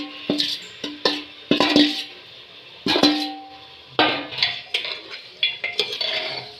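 Local chicken frying in a pan is stirred with a metal spoon, giving repeated close scraping clinks and clatters in an uneven rhythm, with a faint sizzle underneath.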